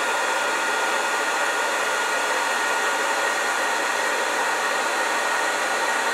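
A heat gun blows steadily throughout while shrinking 1/8-inch heat-shrink tubing onto wiring for a Singer 101 sewing machine, a constant broadband whoosh of hot air running loud and unbroken with no talk.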